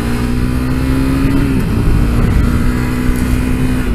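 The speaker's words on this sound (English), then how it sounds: "Same way I rev past these girls." A motorcycle engine revs loudly and steadily while riding past, a continuous close-up drone with slight pitch shifts and wind noise throughout.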